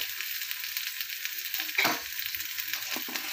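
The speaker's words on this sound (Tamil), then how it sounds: "இப்போ நல்லா வதங்கட்டும்" Chicken curry masala with dried chilies sautés in a pan with a quiet, steady sizzle and hiss, with one brief louder scrape of a spoon partway through.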